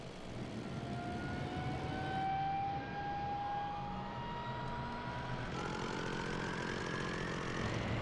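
Me-262 jet engine starting in IL-2 Sturmovik 1946: a rising turbine whine spools up steadily over a constant roaring rumble, loud and close, with no talk.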